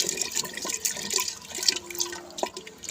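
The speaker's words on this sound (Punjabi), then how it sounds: "ਹੁਣ ਆਪਾਂ ਇਹਦੇ ਵਿੱਚ ਪਾਣੀ ਪਾਵਾਂਗੇ" Hot water is poured into ground saag, the cooked greens, giving a steady close splashing and trickling stream that runs for the whole stretch, with no talking.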